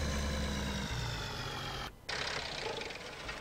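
A truck engine idles in Farming Simulator 17, a steady low rumble with a faint mechanical drone that briefly drops out, then resumes at a similar level.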